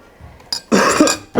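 A person coughs in a few short, forceful bursts during a first-aid demonstration of a foreign body lodged in the airway, close and loud with brief pauses between.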